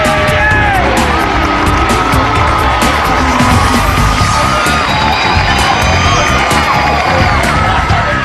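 Home fans of a Welsh league football side cheer and shout continuously after a 5-0 championship-clinching win, a dense, loud crowd roar with whoops and yells sustained throughout.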